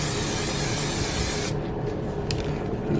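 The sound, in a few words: spraying cooking spray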